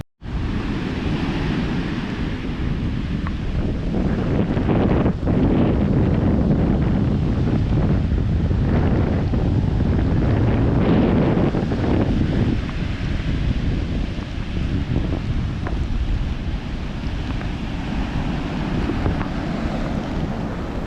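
Rough sea waves crash at a beach under strong wind that buffets the microphone, making a loud, continuous roar that holds steady throughout with no voices.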